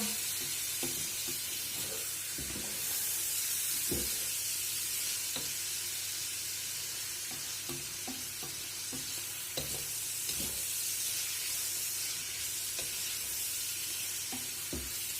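Meat for plov is stirred in a hot frying pan, a steady loud sizzle running throughout while a utensil scrapes and knocks against the pan in repeated strokes.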